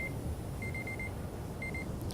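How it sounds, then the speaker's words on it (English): A 30-minute episode timer beeps in short, faint high-pitched bursts, two clusters of rapid beeps over a steady background hum, with no talking. "I don't know how to silence that timer."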